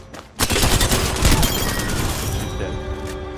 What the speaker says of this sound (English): She just wasted so much ammo trying to kill me.